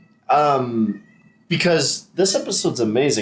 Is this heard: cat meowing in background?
yes